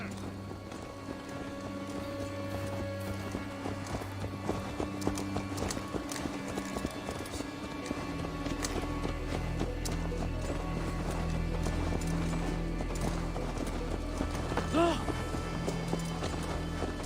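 Horse hooves clip-clop in Assassin's Creed Valhalla, a steady rhythmic gait under in-game music and ambience, with a brief whinny near the end; characters talk over parts of it.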